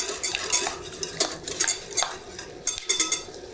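Praline mixture scraped in a pan, a utensil rasping and clinking against the metal in rapid repeated strokes, close and fairly loud.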